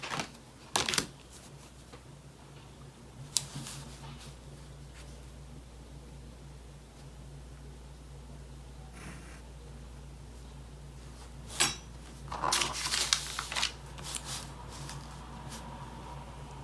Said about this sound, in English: So I'm going to cut it out so you can see the line I'm working with.